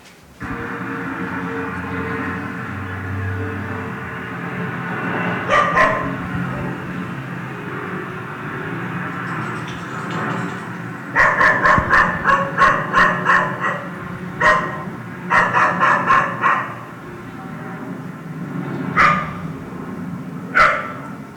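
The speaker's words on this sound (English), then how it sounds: "And that's Leo the dog and Vivian as the handler." A dog barks in several bursts during a greeting with a tenant's family, the barks rising out of a steady background murmur of talk and room noise, moderately close.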